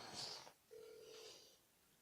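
A phone call connects with a short electronic signal followed by a steady ringing tone, faint and brief, with a low murmur of background room noise.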